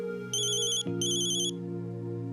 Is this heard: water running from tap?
no